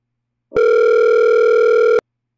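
A steady telephone dial tone on a voice gateway call, a single loud continuous hum lasting about a second and a half, starting and stopping cleanly with no talk.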